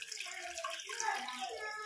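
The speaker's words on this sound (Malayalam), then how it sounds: "രണ്ട് പാത്രം വെള്ളമാണ് ഞാൻ ഒഴിച്ച് കൊടുക്കുന്നത്" Water pours steadily into a pot of rice for ghee rice, a continuous splashing flow with no break, close by and moderately loud.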